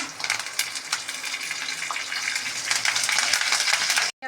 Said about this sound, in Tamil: கடாயில் எண்ணெய் வச்சுருக்கேன். காஞ்சிருச்சு. கடுகு போட்டேன். பொரிஞ்சிருச்சு. காஞ்ச மிளகா, பச்சை மிளகா, இதுவும் நல்லா பொரியணும்.